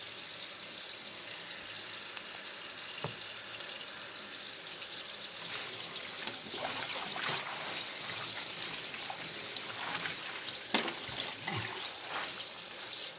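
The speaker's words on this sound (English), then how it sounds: "Now you rinse your greens 2 and 3 times" Collard greens being rinsed under running tap water in a kitchen sink, a steady close trickle and splash with occasional louder spatters and drips, no talking.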